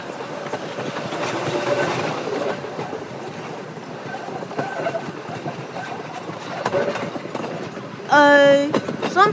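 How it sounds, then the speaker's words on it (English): Express diesel train passing non-stop through a station at a heritage railway diesel festival, a continuous rumble and clatter of wheels at moderate distance, ending with a sharp rising wheel squeal. "this is an extremely express service and goes non-stop through Washford, Warchitz and Donnithorne Colt."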